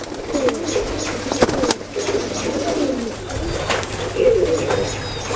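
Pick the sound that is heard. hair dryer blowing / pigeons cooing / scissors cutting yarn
pigeons cooing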